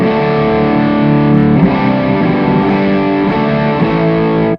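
A heavily distorted electric guitar chord rings out thick and loud through an overdriven Cornford Carrera amp, sustained for several seconds before cutting off.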